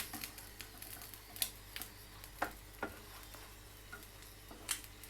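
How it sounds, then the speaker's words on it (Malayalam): A chapathi omelette flipped in a pan on the stove gives a faint, low sizzle broken by several sharp clicks and scrapes of the spatula, quiet and close, with no talking. "ഇതിലോട്ട് നമ്മൾ ആദ്യം ചെയ്ത് വെച്ച ചപ്പാത്തി ഓംലെറ്റ് മറിച്ചിടാം."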